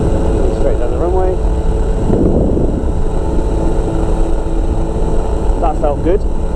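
Flexwing microlight engine running at full power during the takeoff roll down a runway, a loud steady drone with wind buffeting throughout and talk over it.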